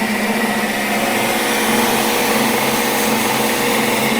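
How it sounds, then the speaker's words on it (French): A steady, loud mechanical whine with a harsh, hissing abrasive texture from a knifemaker's belt grinder, an abrasive belt driven by a plastic wheel, running continuously and unchanging throughout. "c'est une bande abrasive qui est entraînée par une roue en plastique"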